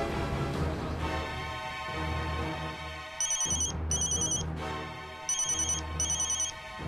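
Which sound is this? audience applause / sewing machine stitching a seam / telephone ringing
telephone ringing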